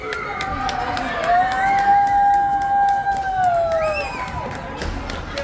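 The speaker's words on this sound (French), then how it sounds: "Et la sirène qui se présente" A long goal siren sounds at a regional final ice hockey game, holding a steady sustained tone for a few seconds over a cheering, shouting crowd in the arena.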